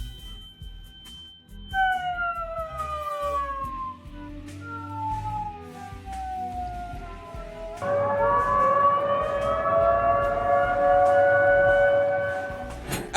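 Air raid sirens wail during incoming strikes in Krasnodar Krai, one rising and falling tone sliding downward, then several sirens joining in a loud, sustained overlapping howl from a distance.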